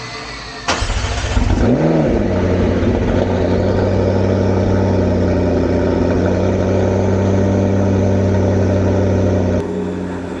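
A McLaren engine cranks and fires up with a sudden loud catch, briefly revs, then settles into a steady, even idle heard close by, cutting off near the end.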